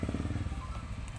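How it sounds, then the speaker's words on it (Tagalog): Motorcycle going past on a rural road at the far end of Cavite, a steady low engine drone close by with pulsing throb, fading slightly. "May dadaan na motor."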